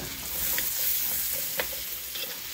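Steady loud sizzling of boxed Cajun jambalaya rice frying in a pot, with occasional stirring scrapes and pops, no voices.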